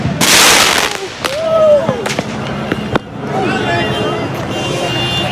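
Fireworks burst outdoors in several loud sharp cracks with crackling trails and a whistling rise, while people talk and react over the bangs.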